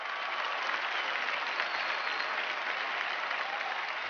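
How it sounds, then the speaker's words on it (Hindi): Audience applause on a TV show stage greeting actress Sonakshi Sinha as she enters, a dense, steady wash of clapping that stays loud and even for the whole stretch with no talk over it. "जोरदार तालियों से स्वागत कीजिए"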